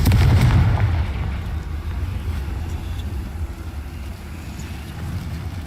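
An explosive spell blast in Hogwarts Legacy gives a loud, booming low-frequency burst up front that rumbles and slowly fades into a sustained, noisy roar.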